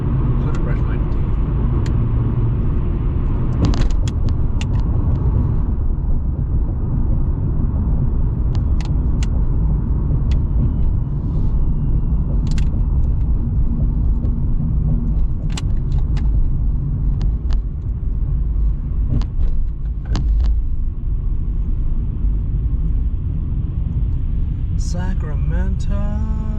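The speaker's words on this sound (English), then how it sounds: "The traffic in Sacramento is real." City road traffic in Sacramento rumbles steadily as cars pass close by, with occasional clicks and knocks and a brief hiss late on, and there is no clear speech.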